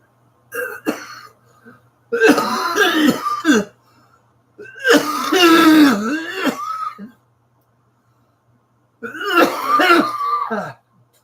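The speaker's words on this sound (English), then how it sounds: "I cough up a lung, but I don't think I got any left." A person coughing and clearing their throat in three separate harsh bursts, close and fairly loud, with quiet pauses between them.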